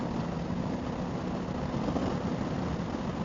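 A Honda motorcycle's engine, either a CRF300L or a Shadow Aero VT750, drones steadily under throttle while riding in a lower gear, a continuous loud, low rumble mixed with wind rush and no pauses.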